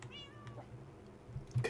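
A cat in the video game Minecraft gives a single quick meow at the start, followed by a low steady background hum and a few soft knocks, with no talking.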